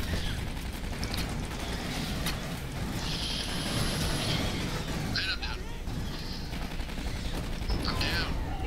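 Sentry turret smart gun firing in Aliens: Colonial Marines, a steady stream of rapid automatic gunfire with mechanical clatter running throughout, mixed with game effects and speech.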